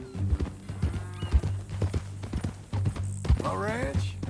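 A horse walking in Red Dead Redemption 2 clops its hooves in a steady, close rhythm while people talk over it, and a brief whinny-like sound follows near the end.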